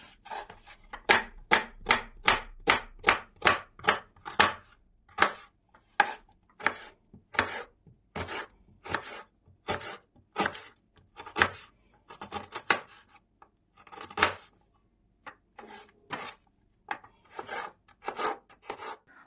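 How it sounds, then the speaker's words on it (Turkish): A knife chops onion into small cubes on a board, a fast, steady run of sharp close taps that later turns more irregular, loud and alone with no voices. "Soğanı da ince ince küp küp doğruyoruz."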